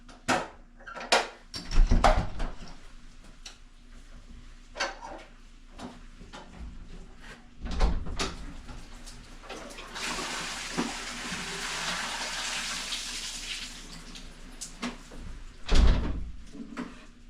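A door clunks open, then water splashes and pours steadily for several seconds before a few more knocks and thumps.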